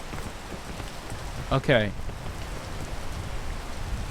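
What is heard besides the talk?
rain falling in the video game PEAK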